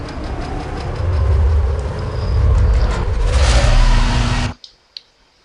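A car drifting in Need for Speed Most Wanted gives a loud, steady engine roar mixed with tire noise, which cuts off abruptly near the end and leaves a couple of faint clicks.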